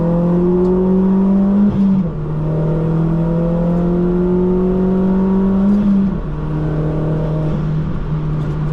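A loud car engine revs hard on a race track and climbs steadily through gears, with brief dips at each shift, heard close from inside the vehicle.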